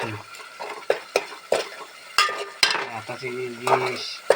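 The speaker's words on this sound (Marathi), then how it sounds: "पूर्ण खेकडी भरलेली असतात त्याला परतून घेऊया" Crab pieces sautéing in a pan at home, with soft sizzling broken by repeated sharp stirring scrapes and clatters of a spoon against the metal, fairly close; a faint voice talks in the background.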